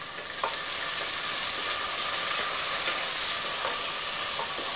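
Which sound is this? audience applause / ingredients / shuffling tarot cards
ingredients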